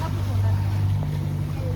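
A motorboat on the sea near the Gateway of India in Mumbai gives a loud, steady engine drone with wind noise, and voices are faintly mixed in.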